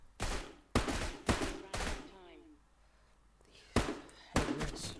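Gunfire in the Roblox game Bomb Line rings out as a string of loud, close shots, four in quick succession, then a pause and two more.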